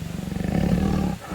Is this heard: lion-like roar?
yes